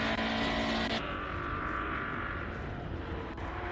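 Classic 1970s and 1980s race cars roar past a hillclimb course in a steady, dense engine drone that shifts in pitch as they go by, heard from a distance with no talking.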